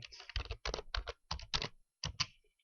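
Fingers type on a computer keyboard while working in Maya 2019, producing close, crisp keystrokes in several quick bursts separated by short pauses.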